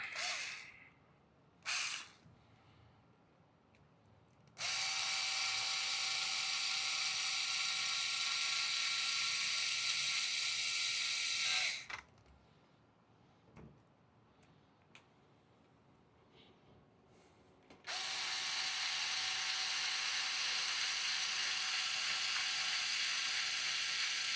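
Power drill drives screws back into an RC car in bursts: two short whirs, then two long, loud, steady runs of several seconds separated by quiet handling noises.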